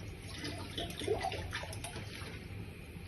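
Water poured from a glass into a pot of soaked rice for mixed vegetable rice, a steady close splashing pour lasting a few seconds with no talk.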